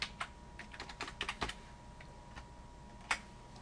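Quiet clicking of fingers typing on a computer keyboard while entering a spreadsheet formula, irregular bursts of close keystrokes with short pauses and one firmer tap near the end.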